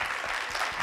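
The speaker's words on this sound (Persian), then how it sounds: "بیا دست بزنید برای نیما." An audience at a TEDx talk claps for Nima, an Olympic champion, as he comes on stage: a brief, close, continuous burst of many hands clapping, with no talking.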